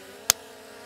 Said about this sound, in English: I'm going to give it a big clap here